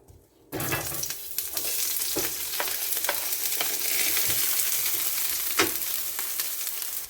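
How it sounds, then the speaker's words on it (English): Onion, scallion and thyme sizzle steadily in hot coconut oil, with a dense continuous frying hiss and occasional stirring scrapes, close and alone after a brief quiet start. "So I'm gonna saute my onion, my scallion and my thyme."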